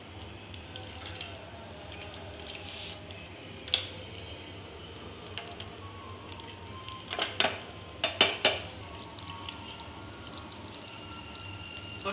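Cashews and raisins frying in ghee in a pan give a steady close sizzle, with a few sharp metallic scrapes and clinks of a spoon against the pan clustered near the end.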